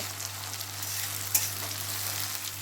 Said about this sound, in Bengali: পেঁয়াজটা লাল লাল করে ভাজা করতে করতে টমেটো কুচি দেব